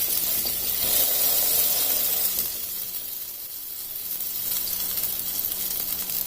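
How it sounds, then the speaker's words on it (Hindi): A chicken burger patty sizzles in oil in a pan over a flame, a loud, steady crackling hiss that eases slightly halfway through, with no talk. "अब फ्लेम पर इस तरह दोबारा से ऑयल डाल देना है और ये जो बर्गर हमने तैयार किया ये इसके ऊपर इस तरह रख देना है"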